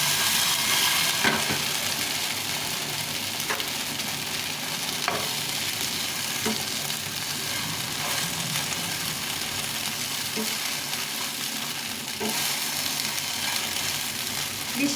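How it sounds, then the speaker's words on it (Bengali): Flattened rice (chira) frying steadily in a pan, a continuous close sizzle with a bright crackling hiss and soft recurring scrapes and shakes as the flakes are tossed, with no voices. "অনেকক্ষণ ধরে এটাকে ফ্রাই করে নিতে হবে ভালো করে ঝাঁকিয়ে দিতে হবে"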